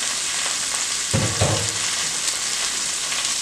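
Onions hit a hot frying pan with a loud burst of sizzling over a constant hiss of frying, heard close with no talk.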